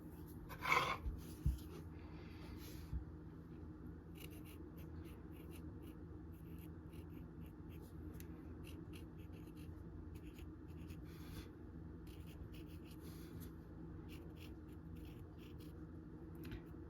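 Pen writing labels for jars of anise hyssop infused vinegar, a soft continuous scratching that runs steadily and quietly at close range, with a couple of small knocks near the start and no talking.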